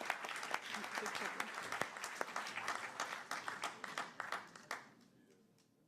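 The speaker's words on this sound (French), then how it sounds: "Vous pouvez l'applaudir aussi pour l'organisation du salon avec ses équipes" An audience at a startup contest awards event in Paris claps in a fairly faint, scattered round of applause that thins out and fades near the end.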